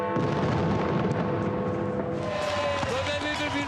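Fireworks at a New Year celebration, a dense rumble of booms and crackling bursts with shrill whistling tones, loud and continuous, mixed with crowd noise.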